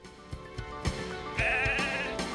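Sheep bleating in a short burst of several wavering calls, fairly close and clear, with faint background noise and no talking.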